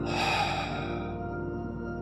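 A slow exhaling breath during a yin yoga class, one soft, close airy sigh that fades gradually over a couple of seconds, alone.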